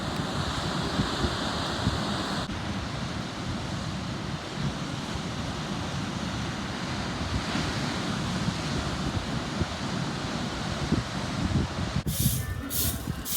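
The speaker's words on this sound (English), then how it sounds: "Yeah, there's still a few waves, but not as big as they were." Surf rolling onto the Fuerteventura coast on a sunny January day, a steady broadband wash of waves mixed with gusty wind buffeting the microphone, continuous and fairly loud, with a brief rustle near the end.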